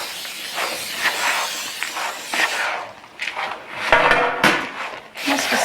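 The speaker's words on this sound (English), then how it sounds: "You do want to grease the sheets, so if you could just use a little cooking spray" Cooking spray hisses onto baking sheets in a home kitchen in repeated short, fairly loud bursts, with some kitchen clatter and possible brief talking mixed in.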